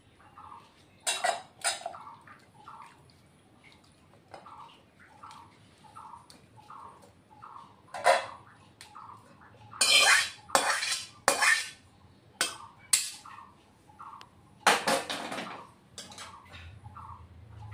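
A pot of fish curry is taken off the stove with scattered metallic clanks and scrapes of cookware, while a bird chirps at a steady, repeating rhythm in the background.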